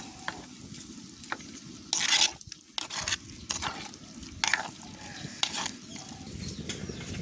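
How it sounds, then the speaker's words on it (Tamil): Spice powder is stirred into a curry in a pot during village cooking, with scraping spoon strokes over a steady sizzle of frying, close and fairly loud, and no speech. "அதோட தூள் நல்லபடியாக கிண்டி விடுவோம்"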